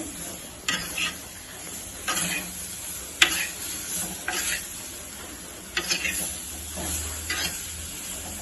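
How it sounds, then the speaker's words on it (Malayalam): A spoon stirs and folds pickle in a pan. Scraping strokes come at intervals over a faint sizzle, with one sharp clink of metal partway through. "ഒന്ന് ഇളക്കി മറിച്ച് ആകലിങ്ങോട്ട് യോജിപ്പിക്കുക"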